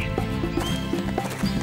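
A horse moving with soft hoof clops and a brief whinny-like sound, faint and short against a quiet background.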